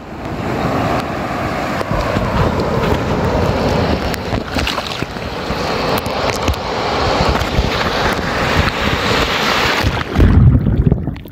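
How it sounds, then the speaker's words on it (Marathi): Sea waves break and wash on Kolthare Beach in Dapoli, a continuous close roar mixed with wind buffeting the microphone, with one heavier surge of water near the end. "लाटांचा आवाज भरपूर आहे"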